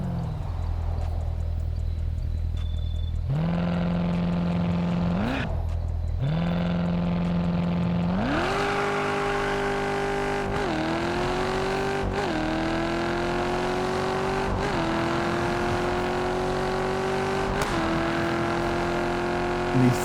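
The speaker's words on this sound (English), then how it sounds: "This engine sound is so beautiful." A racing car engine in the driving game Test Drive Unlimited Solar Crown idles, then revs hard on launch control and accelerates through repeated upshifts, each gear change dropping the rising engine note.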